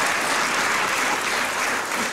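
An audience claps steadily in a church during a community choir performance in San Diego, dense even applause filling the room from start to finish.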